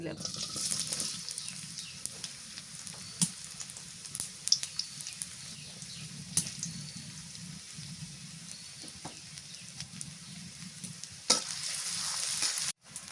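Onions sautéing in plenty of oil for a magur catfish curry, a steady low sizzle running throughout with scattered clinks and scrapes of stirring, and a louder burst of frying near the end.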